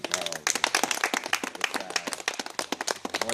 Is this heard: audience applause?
yes